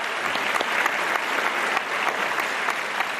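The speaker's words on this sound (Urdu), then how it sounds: "تالیاں" An audience claps continuously at an Islamic knowledge quiz show, dense steady applause from a large group, close and loud with no talking.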